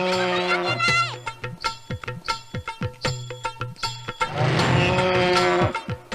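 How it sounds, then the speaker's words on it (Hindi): A buffalo moos several times in close succession, loud and near: long drawn-out bellows at the start and end with shorter grunting calls in between, and no talking over them. "ये भैंस क्यों लाया तू?"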